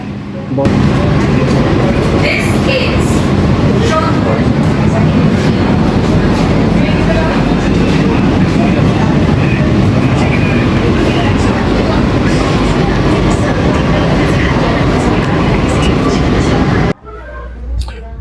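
Inside an AC local train running from Sodepur toward Ranaghat, a loud, constant rumble and rattle of the carriage on the rails fills the whole stretch before cutting off abruptly near the end.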